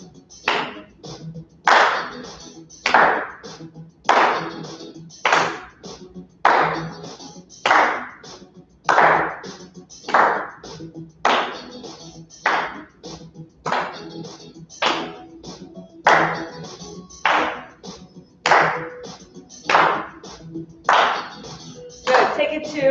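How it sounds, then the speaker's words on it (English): A group claps together in a Tabata fitness class, sharp claps repeating in an even rhythm, roughly one per second, loud and close, with no voices over them. "Let's add that clap."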